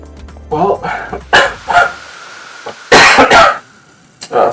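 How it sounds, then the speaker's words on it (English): A person coughs several times in sharp, loud bursts with short pauses between them, close to the microphone. "sorry about my cough still."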